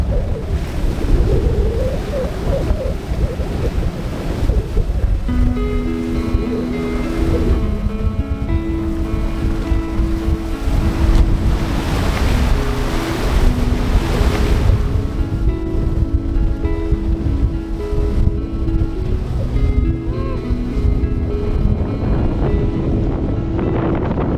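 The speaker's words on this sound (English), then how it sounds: "one thing we haven't escaped are squalls. And we're about to get completely engulfed." Strong wind and crashing waves engulf a sailboat during a squall on the Pacific, a loud continuous roar of gusts buffeting the microphone with surging water throughout.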